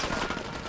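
Gunfire in the video game Ghost Recon Wildlands, a dense continuous burst of rapid shots filling the short moment, loud and close.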